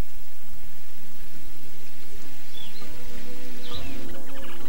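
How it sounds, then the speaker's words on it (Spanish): Steady heavy rain falls in the wild, a dense continuous hiss of drops on the ground, loud and close, with faint bird calls above it. "la lluvia pone punto final a los eternos días de calor, polvo y muerte"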